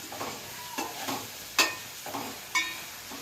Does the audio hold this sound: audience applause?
no